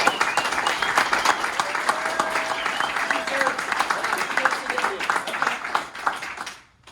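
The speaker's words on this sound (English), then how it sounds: "can we please give these guys a round of applause?" A roomful of roofing salespeople gives a steady round of applause for two colleagues at a company gathering, dense, even clapping with faint crowd murmur throughout, cutting off abruptly near the end.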